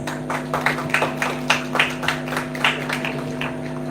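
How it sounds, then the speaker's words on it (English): Audience applause after a performance at an English speech contest: a steady run of hand claps at a moderate distance, with a sustained electrical hum beneath and no talking. "Please give applause."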